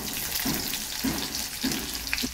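Two medium onions fry in hot oil with cumin and mustard seeds, a continuous soft sizzle with faint rhythmic stirring or scraping strokes in the pan.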